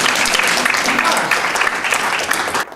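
An audience claps for a colleague at a Broadalbin-Perth school gathering, a dense, loud burst of applause that keeps up steadily for the whole stretch and thins out only at the very end.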